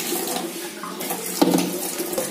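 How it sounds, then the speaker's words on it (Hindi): Water runs steadily into a toilet flush tank as the float ball rises, a close, continuous rushing fill with a brief bump partway through. "जो ही पानी भरेगा ये बॉल ऊपर आएगी और यहाँ से पानी बंद हो जाएगा"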